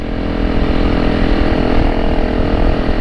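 A Honda CRF300L Rally motorcycle engine drones steadily and loudly while riding to a lookout, a close, continuous buzzing hum with no talking.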